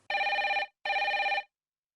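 A telephone bell rings in two long, even bursts separated by a short pause, loud and close with a third ring just beginning at the end, no voices.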